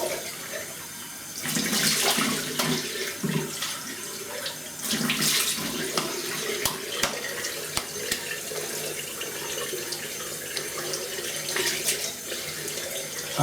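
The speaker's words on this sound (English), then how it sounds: "let me have a little rinse" Running water splashes from a tap into a sink as a face is rinsed during a shave, a steady close stream with surging splashes and bursts over several seconds.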